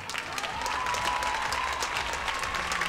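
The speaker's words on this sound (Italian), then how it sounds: "l'applauso e il sostegno del pubblico" An audience at the 2021 Italian rhythmic gymnastics championship finals in Folgaria applauds steadily while a gymnast waits for her score; the dense, even clapping keeps up throughout without a break.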